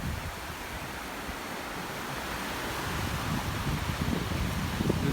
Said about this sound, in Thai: คลื่นก็ไม่ค่อยแรงครับน่าเล่นอยู่ครับ